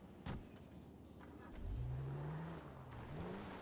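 A car in Grand Theft Auto V starts off and pulls away, its engine revving upward in two rising sweeps after a brief thump, moderately close and without speech.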